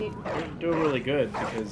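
A dog barks and whimpers in the video game Bloodborne, with short yips and whines sitting under continuous close talking.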